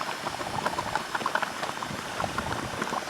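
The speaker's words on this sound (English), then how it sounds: "And here we have some mud pools." Geothermal mud pools in New Zealand bubble and plop steadily, a dense patter of thick popping bursts close by, with light rain falling around them.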